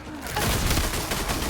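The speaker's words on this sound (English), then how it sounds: "Behold, I have shotgun." Gunfire from a shotgun in a first-person shooter video game, a dense burst of blasts and impacts running steadily through the whole short moment, loud and close with no talk over it.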